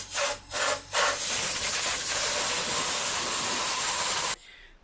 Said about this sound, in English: we've just been taking the rust out with a scotch pad and some